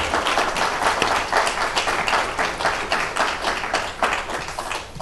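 A lecture audience applauds as a speaker is welcomed to the podium, steady dense clapping filling the room at full volume before tapering slightly at the end.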